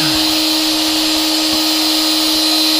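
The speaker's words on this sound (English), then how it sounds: "My spindle is on. And carve." CNC router spindle carving a thin line blue flag in wood, a steady loud high whine with a constant tone throughout, joined by a broadband rushing hiss as the bit cuts.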